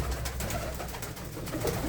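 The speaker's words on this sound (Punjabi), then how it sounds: "ਇਹ ਹੈ ਬਾਈ ਹੁਣਾਂ ਦੇ ਕਬੂਤਰ" Several pairs of kept pigeons coo softly in low, rolling notes close by, over a steady background hum.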